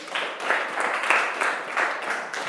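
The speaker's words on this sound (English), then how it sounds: "May we clap for him?" A primary six mathematics class claps together in a short burst of rhythmic, fairly close clapping, with pupils' hands striking in loose unison for a couple of seconds.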